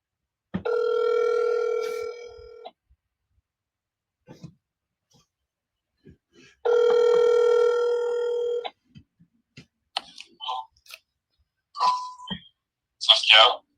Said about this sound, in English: let's see if we get my man Lee on the phone